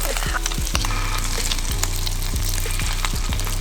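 Spam sizzling and frying in a pan, a steady loud crackle with repeated scraping stirs of a utensil against the pan.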